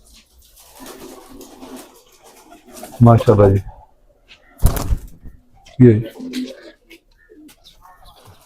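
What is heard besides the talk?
pigeon cooing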